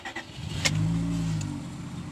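A car engine with about 151,000 miles, a slight shake and its check-engine light on idles and briefly revs up close by, with a steady low hum and no talk.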